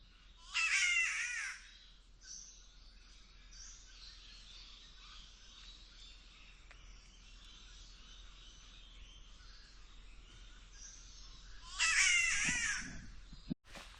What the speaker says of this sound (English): So that bird call that you just heard then is a catbird